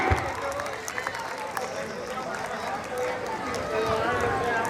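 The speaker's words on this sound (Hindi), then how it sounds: "तो एक बार जोरदार तालियां ऐसी पूरी टीम के लिए" Crowd applause for the performing team at a Ramleela stage event in Mukesh Nagar, Shahdara, a dense, even patter of many hands clapping throughout, with a voice talking over it.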